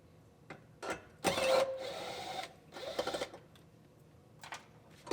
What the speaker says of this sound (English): Now we'll unbolt our battery hold down.